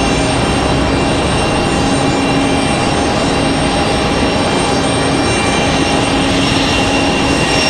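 Spirit Airlines airliner climbing up the hill at Raleigh-Durham International, a steady, loud broadband engine roar with faint tonal whine holding level throughout, no voices.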